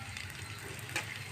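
Chopped ginger, garlic and green chilli frying in a pan, giving a steady, close sizzle with no voices.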